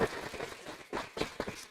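A brief patter of audience clapping at a school board meeting: a handful of uneven claps in a room, thin and short-lived.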